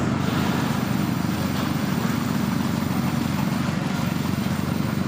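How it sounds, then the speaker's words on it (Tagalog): Two power trowels smoothing freshly poured concrete slab before dawn, a steady loud droning motor hum with continuous low rumble throughout, no speech. "dalawang power trowel ang ginagamit natin sa pagkinis"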